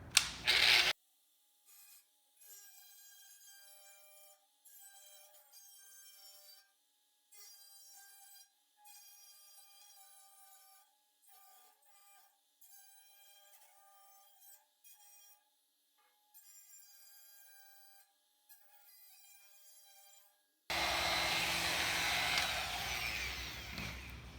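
A power tool cuts the metal inner rocker panel of a 1967 Mustang convertible in a run of short, faint, high-pitched whining bursts with brief pauses, then a louder, rougher noise at the end.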